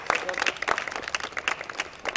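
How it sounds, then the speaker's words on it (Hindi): An audience at a bhajan competition audition claps to welcome five young performers from a school group, a lively crowd of hands with crisp individual claps standing out near and far. "आप लोग तालियों के साथ सबका वेलकम करते रहें"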